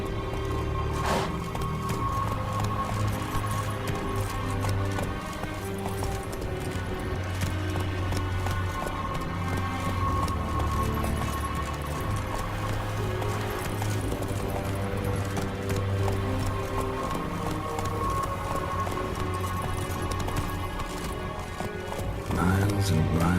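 Hooves clip-clop in a steady rhythm as a horse gallops along in the video game Once Human, the pounding continuing under game music and a voice.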